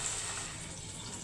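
Water poured steadily into a cooking pot while making a home-made rice and lentil porridge, a continuous close rushing splash lasting the whole moment with no talk.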